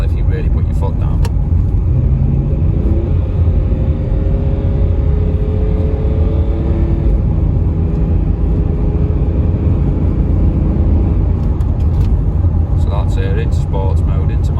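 A Range Rover L322 cruises at 40 mph with a low, smooth engine and road rumble and a faint tonal drone that gently rises and falls, while someone talks over it.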